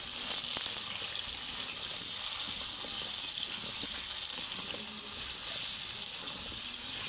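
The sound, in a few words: stirring chicken and potatoes in a pan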